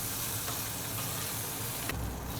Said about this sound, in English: You can see we've got a great sear on that chicken skin.